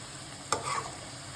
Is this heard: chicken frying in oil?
yes